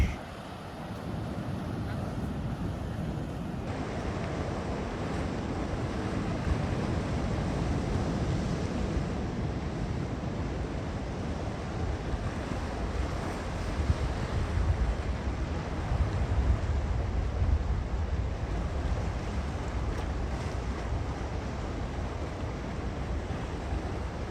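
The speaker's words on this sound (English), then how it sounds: "looking out this way, we get some good waves" Ocean waves at Puerto de la Cruz on Tenerife roll in as a constant heavy roar of surf, with gusts of wind buffeting the microphone and occasional swells of louder crashing water.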